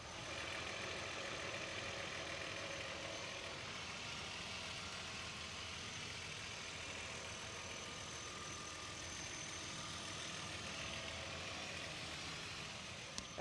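Steady idle of a 1993 VW Corrado VR6 engine heard close at the back of the engine bay, a quiet, even hum with faint hiss that holds constant throughout.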